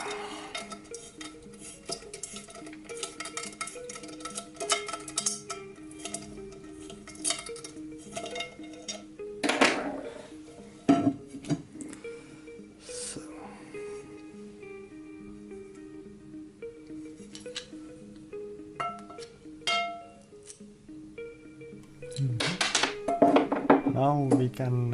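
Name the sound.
unboxing and handling a non-stick frying pan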